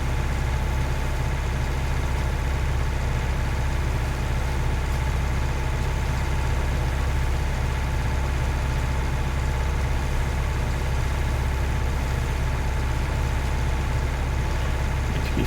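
A small tractor engine in Farming Simulator 19 idles in a steady, continuous low rumble, close and constant throughout with no voices over it.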